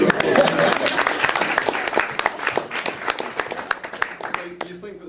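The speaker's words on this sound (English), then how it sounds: "so another round of applause" Wedding guests applaud a couple's fourth anniversary during a groom's speech, a lively round of clapping from a crowd that thins and tapers off after a few seconds.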